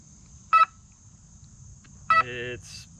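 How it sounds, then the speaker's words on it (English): An electronic speed controller on a Flex Innovations RV-8 RC airplane gives two short, sharp beeps about one and a half seconds apart. A faint electronic tone runs throughout and a brief voiced sound follows the second beep. "It's just beeping."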